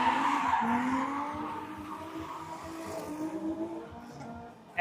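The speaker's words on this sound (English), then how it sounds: "I hope you guys can hear the squealing and the revving in the background." Drift cars at a Michigan drift club matsuri event: sustained tire squeal with rising engine revs, loud and continuous throughout, the engine note sweeping up and down beneath the screech.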